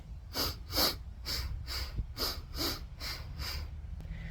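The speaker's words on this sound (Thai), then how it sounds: "ลองฟังเสียงหายใจผมนะ" Rhythmic breathing while running comes as about nine evenly spaced, close, sharp breaths in a steady cadence, each a short airy puff with quiet gaps between.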